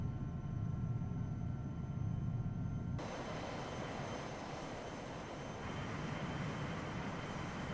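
A steady, droning aircraft engine hums through the cabin on a flight in the X-Plane 11 simulator. The noise stays even and continuous, and a faint tonal whine shifts partway through. Nobody speaks.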